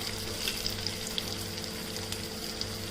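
Chopped onions and capsicum sizzle in a hot pan in a home kitchen, a steady crackling fry with faint popping, with no voices over it.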